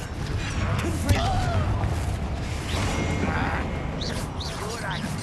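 A Confringo fire spell blasts in Hogwarts Legacy, a burst of bright crackling impacts over a busy game-combat soundscape, with spoken lines and other spell effects nearby.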